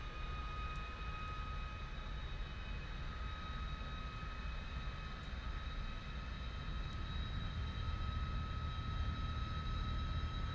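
A Lockheed T-33 jet engine spinning up in a flight simulator game: a faint, continuous roar with steady high whining tones, even in level throughout, with no voices.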